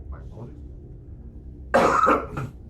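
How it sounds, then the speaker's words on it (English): Someone coughs hard into a close microphone during a tabletop role-playing session, a short loud burst with a throaty follow-up, after some quiet low murmuring. "the post-nasal drip is making me want to cough into the mic"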